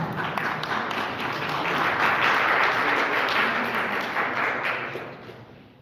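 A crowd at a meet-the-candidates event applauds a county treasurer candidate with steady, dense clapping that swells in the middle and tapers off near the end.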